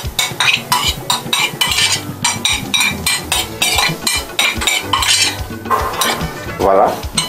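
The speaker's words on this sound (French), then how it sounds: "Et on mélange tout." Seasoned shrimp tossed with a drizzle of oil, utensils clinking and scraping steadily against a bowl in quick repeated strokes, fairly loud and close with no talking.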